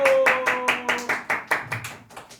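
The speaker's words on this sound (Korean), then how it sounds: "네, 박수." A church congregation at a Sunday service claps in a short, fairly regular burst of loud, close claps. The claps slow and thin out near the end, with a faint tone in the background at the start.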